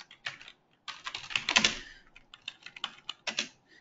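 Computer keyboard typing a Linux terminal command, delivered in irregular bursts of close, crisp key clicks with short pauses between words and a dense flurry midway.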